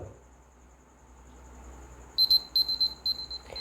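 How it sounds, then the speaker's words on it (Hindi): A countdown timer alarm sounds near the end, a run of short high electronic beeps in quick irregular bursts after a quiet stretch of low room hum. "तो फाइनली टाइमर बच चुका है"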